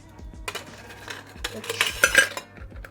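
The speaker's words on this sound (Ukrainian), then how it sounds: "беремо шейкер. В Шейкер додаємо лід." 4x4 ice cubes clatter into a metal cocktail shaker at a bar, a burst of clinks and knocks building to a rattling peak before fading.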